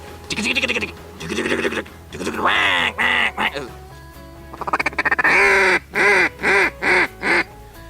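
Several bursts of nasal quacking from a mallard duck call, some rapid and chattering, ending with a steady string of four evenly spaced loud quacks.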